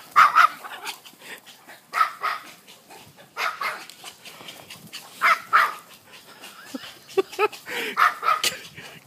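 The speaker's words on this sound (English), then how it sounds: "Get that rope. Don't let Killer get it." Big dogs bark, yip and growl in short, uneven bursts while tugging at a rope in a game of keep-away, the sounds close and lively with brief pauses between.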